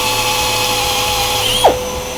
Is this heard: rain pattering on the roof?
no